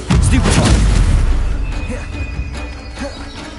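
A heavy boom from a spell impact in Hogwarts Legacy on PS5, a loud, deep blast that rolls off into a rumbling decay, with faint game sounds trailing behind.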